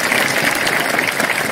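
Loud, dense clapping from a school audience at the third annual function of Manigaon Government SSD High School in Nabarangpur, steady and close throughout with no talk over it.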